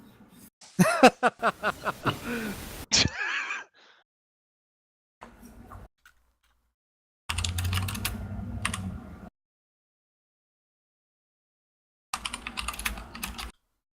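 Bursts of clattering computer keyboard typing on an open microphone during an online role-play game session, quick key strikes in several separate spurts with silent gaps between.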